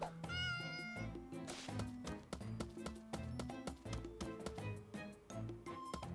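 A cat meows repeatedly in the video game The Legend of Wright, a string of short, close mewing calls over a soft tapping background, with no talking.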